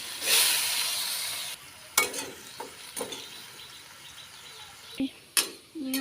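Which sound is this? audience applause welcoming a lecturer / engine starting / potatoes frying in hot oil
potatoes frying in hot oil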